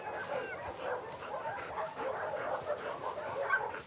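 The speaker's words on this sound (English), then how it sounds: "Hey, you crazy dog." A dog in the video game The Last of Us Part II gives soft yips and whimpering barks in a steady, excited stream at moderate volume.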